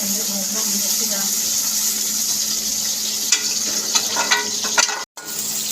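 Garlic and ginger fry in a pan with a continuous close sizzle and occasional stirring scrapes and clicks near the end, while someone talks over the cooking.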